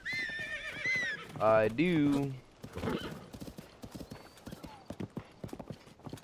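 A horse in a video game whinnies once clearly up close, followed by a run of rhythmic hoofbeat clip-clops; someone speaks briefly at the start and a short word later.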